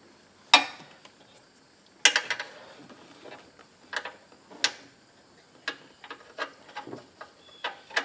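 A 14 mm wrench works loose a spark plug on a 5th generation Subaru Outback, giving scattered sharp metallic clicks and clanks of tool on metal with quiet pauses between.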